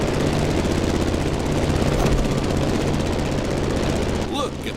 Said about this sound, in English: The plane has taken off